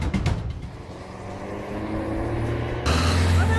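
A car engine runs and builds up as the vehicle pulls away. The drone rises steadily and swells louder near the end as it drives off, with no voices.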